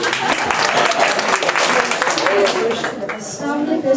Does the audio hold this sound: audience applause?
yes